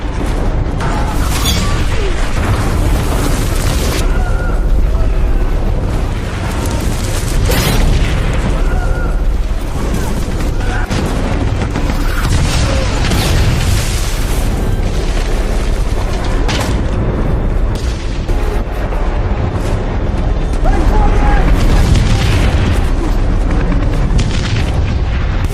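Artillery shells explode nearby in a World War II Pacific battle, giving repeated heavy booms and blasts over continuous loud rumbling combat noise, with voices faintly mixed in.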